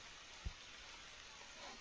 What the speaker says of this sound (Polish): o, znowu leje.